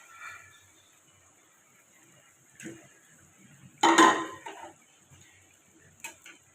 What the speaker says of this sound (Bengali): আমাদের ঝোল ফুটে গেছে, আমরা এর মধ্যে মাছ দিয়ে দেব।